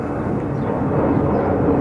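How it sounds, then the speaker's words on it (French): An airplane passes overhead, a loud, steady low roar that stays constant and slightly swells toward the end, with no talking over it. "Un avion passe, j'attends qu'il passe quelques instants"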